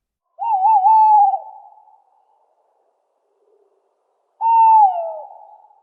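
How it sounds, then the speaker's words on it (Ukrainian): Two long, wavering owl calls, loud and close, separated by a few seconds of silence, each trailing off at the end. "знов зарепетувала сова й гучна луна того скаженого репету по всьому лісі роздалася"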